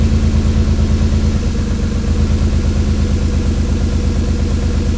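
A Ford Escape engine misfires at idle close up, a loud, uneven low rumble with an irregular pulsing beat that runs the whole time, with no voices.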